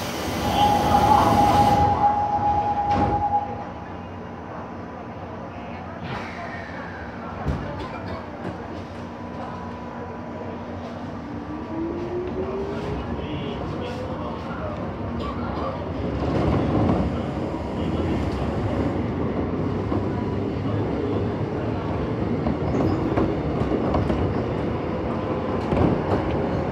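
A Seoul Subway Line 2 train, car 2466, bound for Sindorim, departs Sillim and runs toward Sindorim. A brief tone sounds, then rising motor whine and steady rumbling wheel and track noise continue with squeals and clanks as the train travels.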